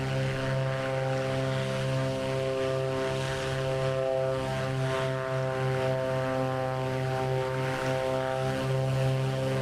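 A propeller plane drones steadily in Microsoft Flight Simulator on a flight over Mount Shasta, a continuous, even engine hum held at constant pitch with no talking.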